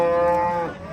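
A cow at a livestock market gives one close, loud, sustained moo lasting about a second, with no talk.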